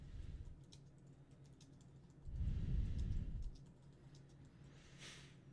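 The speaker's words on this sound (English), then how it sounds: "now I start clicking on here" A computer mouse clicks in scattered quick taps, sharp and close but faint, with a dull thump partway through.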